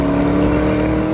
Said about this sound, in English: I'm currently driving on snow and ice in a car that has 641 horsepower rampaging around underneath its bonnet